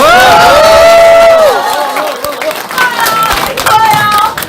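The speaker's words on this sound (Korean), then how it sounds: "다시 한번 큰 박수 부탁드립니다" Crowd applause at a campaign office opening, heard alongside strong tonal sounds like feedback or music; the clapping is loud at first, then dips and swells again.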